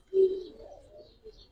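Soft, close cooing from a pigeon among Giribaz coloring pigeons, one low throaty coo swelling and trailing off, then a faint second murmur, quiet and alone.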